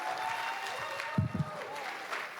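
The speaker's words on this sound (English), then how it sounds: "Let's give a big round of applause for each of them." An audience in a classroom at a high school writers week applauds student poets, with moderate, fairly steady clapping, a few brief voice bursts in the middle, and a faint tone running underneath.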